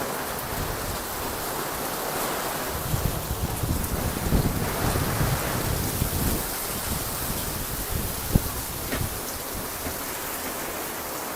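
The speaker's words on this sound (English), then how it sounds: "Drenched in rain." Heavy rain pours outdoors in a thunderstorm, a dense continuous hiss with gusty wind buffeting the microphone, loud and close, no voices.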